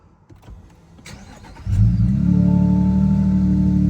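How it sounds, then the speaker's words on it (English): A Lexus GX550 truck fitted with a Remark catback exhaust cranks and fires up, its engine catching with a loud surge after some quiet clicks and handling sounds, then settling into a steady deep idle hum, close by with no talking. "So let's turn this vehicle on."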